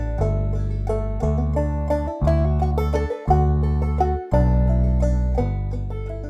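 A software instrument plays back a MIDI bass line, with deep sustained bass notes and stacked harmonics in a stepping phrase, loud and clean, broken by short gaps between notes.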